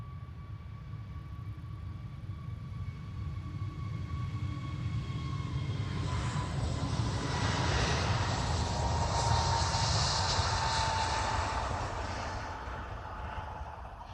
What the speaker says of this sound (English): Yeah, off to Malaga, the A321 Neo, 2 years old.